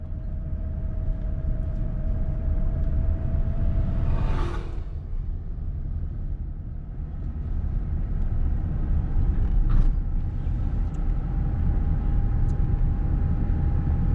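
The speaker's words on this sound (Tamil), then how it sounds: "பாருங்க, நான் ஆக்சிலேட்டர் பண்ணல, வண்டி போயிட்டு இருக்கு. 3வது கியர்." A car coasts downhill in third gear without the accelerator on a hill road, giving a continuous low engine and road rumble heard from inside the cabin, steady and fairly loud throughout, with a brief whooshing swell near the start and no talking.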